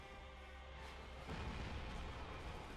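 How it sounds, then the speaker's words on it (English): An explosion in the video game Dark Souls Remastered hits as a dull, muffled boom partway through and fades into a low, lingering rumble, fairly faint, with no talking. "The fucking explosion, bro."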